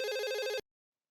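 A single electronic telephone ring, bright and buzzing, lasting about half a second before cutting off to silence.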